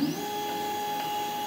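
A CNC machine's axis steppers jog under a YoraHome offline controller with a short, steady whine and a high rising tone at the start, fairly quiet and with no talk.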